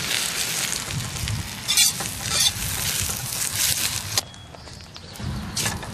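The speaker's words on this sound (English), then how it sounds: "I put some uh, old vegetables in there just to uh, help season the wok" Old vegetables stirred and sizzling in a new carbon steel wok being seasoned, a steady close frying hiss with scraping strokes of the utensil and brief clatters, no talk.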